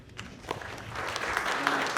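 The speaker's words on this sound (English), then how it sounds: "Round of applause for the Assembly member, please" Applause from the audience at a youth awards ceremony for an Assembly member, starting thin with scattered claps and swelling into fuller, steady clapping.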